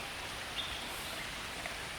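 Steady soft rain falling at an outdoor wildlife park, a faint even hiss of drops with no talk.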